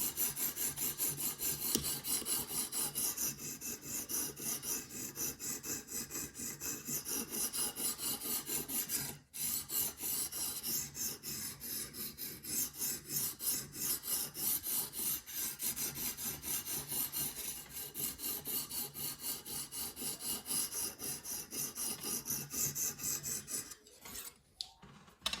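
A ZT 0562ti knife blade stroked steadily against a stone on a guided sharpening system, producing a continuous close rasping scrape with even rhythm, briefly pausing once and near the end.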